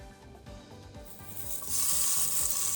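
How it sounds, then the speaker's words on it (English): Pork sausage made from pork butt sizzles and fries in a pan, a steady close crackle that swells louder partway through, with no talking. "fry up a little batch and see what that tastes like"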